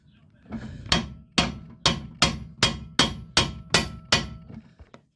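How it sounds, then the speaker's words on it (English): Nine sharp metallic hammer blows ring out at a steady pace, close and loud, followed by a couple of lighter taps, as a front passenger axle is wedged and hammered on a 2009 Nissan Rogue 2.5 L. "So wedging it, hammering on it."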